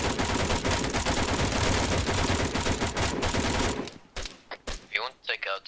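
A .50 cal machine gun fires in Arma 3, loud sustained bursts of rapid gunfire that cut off, followed by sparse shots and some distant radio-like chatter.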